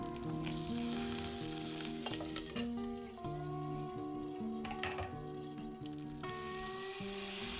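Cumin, mustard seeds and curry leaves sizzle and crackle steadily in hot oil in a pan, close and continuous, with a few stirring scrapes and soft background music underneath.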